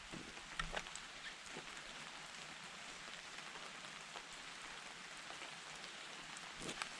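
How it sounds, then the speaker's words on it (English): Rain falls steadily in the Hoh Rainforest of Olympic National Park, a soft, continuous hiss of drops on leaves and moss, quiet and even, with occasional louder drips close by. "It's raining now."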